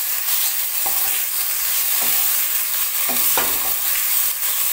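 Potatoes fry in a pan with bay leaf, giving a steady broadband sizzle throughout, with a few distinct scraping clacks of stirring at irregular intervals, close and fairly loud with no talk.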